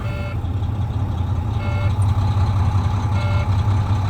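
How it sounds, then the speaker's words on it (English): A truck engine runs steadily with a deep, loud low rumble during a compressor test, with faint intermittent beeping tones repeating over the drone. "We're going to rev the engine up to 1200 RPM."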